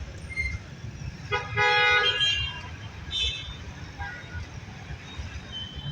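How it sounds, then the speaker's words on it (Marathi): Busy road traffic rumbles nearby as a car horn gives a long honk, followed by a shorter toot a moment later. "हे बघा ट्रॅफिक"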